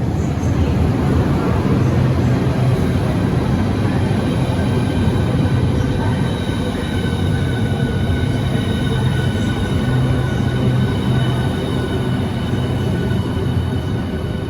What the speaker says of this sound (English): arriving now is the 1601 Southeastern service to St Pancras